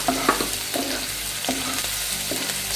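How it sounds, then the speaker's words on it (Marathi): Green chilli, garlic and ginger paste sizzles in hot oil with cumin seeds and turmeric while being sautéed, a close steady frying hiss with repeated scraping stirs and no talk. "छान परतून घ्यायचं आहे."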